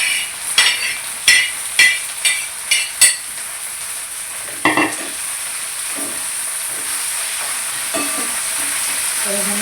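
Cluster beans fry in a hot pan: a string of sharp utensil taps and scrapes comes first, then a steady, fairly loud sizzle carries on alone.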